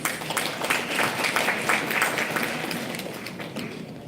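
An audience at an International Women's Day celebration at Lloyd Institutions applauds as the founder president comes to the dais, a steady ripple of many hands that fades slightly toward the end, with faint voices in the background.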